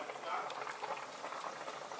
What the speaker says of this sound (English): I put this on high and let it boil.